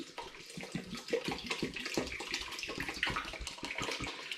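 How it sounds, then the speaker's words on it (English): Water pours steadily from a 5 litre bottle into a pan of grain while an all-grain Rauchbier is brewed, a continuous splashing, gurgling stream heard up close with no talking. "So I'm hoping to empty as much of this 5 litre bottle as possible into it."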